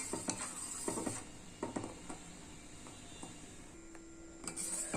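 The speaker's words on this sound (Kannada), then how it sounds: "ಅದು ಸ್ವಲ್ಪ ಥಿಕ್ನೆಸ್ಸಿಗೆ ಬರೋವರೆಗೂ ನಾವು ಈ ರೀತಿ ಸ್ಟಿರ್ ಮಾಡ್ಕೊಳ್ತಾ" Custard powder mixture stirred in a pan, a soft scraping swirl punctuated by light clinks of a utensil against metal, faint and close with a steady low hiss underneath.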